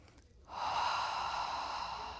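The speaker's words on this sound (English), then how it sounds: "take a few breaths here" Steady, airy breath sound during a pilates mat exercise, starting after a brief quiet moment and holding as one long, fairly loud exhale with no talking.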